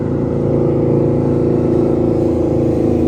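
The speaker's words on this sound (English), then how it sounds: "Here comes it's a motorcycle." A motorcycle engine drones loud and close, a steady low hum that holds constant throughout.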